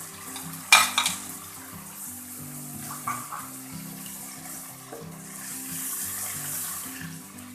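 Chicken karahi masala with yogurt frying in a pan while being stirred, a soft steady sizzle with scraping spoon strokes, one sharp clatter near the start, continuous and fairly close with no talking.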